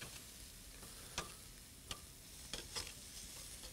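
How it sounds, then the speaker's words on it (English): Flank steak and onions sizzle on a grill in a faint, steady hiss, broken by a few sharp clicks and pops from turning the meat, with no talking. "we'll turn this flank steak over one more time. Turn our onions around. I love grilled onions."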